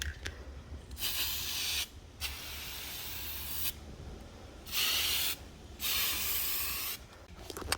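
Krylon magnetic paint hisses from an aerosol can in several separate bursts, each lasting about one to two seconds with short silent gaps between them, sprayed close by in a quiet room.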